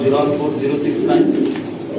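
Giribaz and Golla pigeons coo in low, throaty murmurs close by at a pigeon seller's farm in Uttara, blending with a voice speaking over them.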